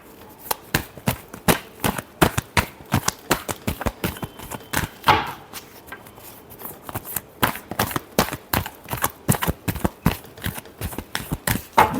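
Tarot cards being shuffled in rapid, irregular bursts of crisp flicks and slaps, close and alone, with a brief pause partway through.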